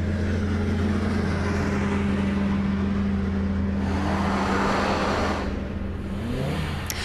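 Cars idle and creep in a snowy traffic jam on the DVP highway at night, giving a steady low engine drone with rising revs and passing whooshes, continuous and fairly close, with no talking.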